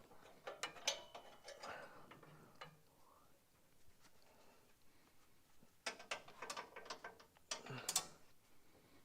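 Ratchet wrench turning a bolt on a 1959 Ford F100 truck during transmission leak work, heard as bursts of quick rasping clicks, faint and close, separated by a quieter pause.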